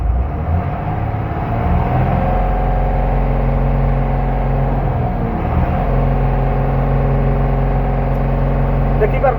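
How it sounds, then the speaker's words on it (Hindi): Car engine held at high revs with the accelerator pressed, a loud steady drone with a strong low hum throughout and a brief dip in the middle before it settles again, heard close up. "मु रेस करुच्ची एक्सीलेटर"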